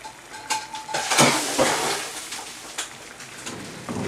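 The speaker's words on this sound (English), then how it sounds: "take this pan here just empty the contents of this pan" Hot fried garlic tarka is tipped from one pan into a pan of dhal, giving a loud burst of sizzling spatter mixed with metallic clatter of the pans, close up and short.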